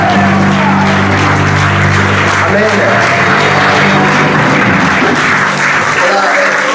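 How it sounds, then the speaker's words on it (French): A congregation applauds in a French-speaking church service, a dense, sustained clatter of many hands filling the room, with a voice speaking over it at the start. "mais on peut aussi applaudir le Seigneur"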